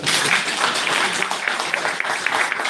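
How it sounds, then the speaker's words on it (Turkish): Audience applause at a Turkish press statement event, a steady dense wash of clapping filling the room throughout, fairly loud and continuous with no clear pauses. "Buna bir alkış alalım mı arkadaşlar?"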